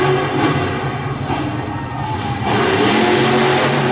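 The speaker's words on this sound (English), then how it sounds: "Just tags the throttle right at the base of the ramp and it throws the front end straight up in the air" Monster truck engine revving hard at the base of a ramp during an arena show in Harrisburg, PA: a loud, continuous roar that surges near the end, with crowd and arena noise mixed in.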